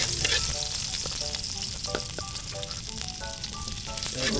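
Garlic sautéing in a pan during backyard cooking for Bicol Express, a continuous close hiss and crackle with light stirring clinks, no talking.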